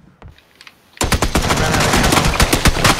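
Suppressed AK rifle fire in a video game: after a quiet start with a few faint clicks, rapid automatic bursts begin around one second and continue densely and loudly to the end, with no talk over them.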